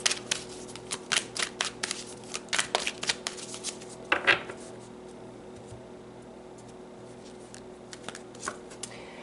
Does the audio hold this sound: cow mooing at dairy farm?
no